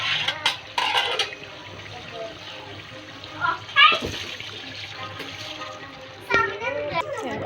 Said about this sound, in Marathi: आता हे राहिलेलं पाणी टाकून घेते.